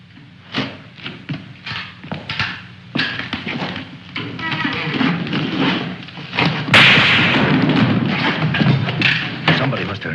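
Gunfire breaks out in a 1950s war film, as sharp cracks and thuds in a ragged, loud burst that swells into a dense roar of noise midway.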